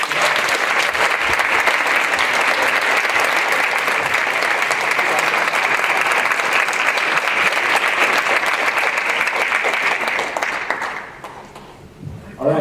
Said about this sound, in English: come down for one more round of applause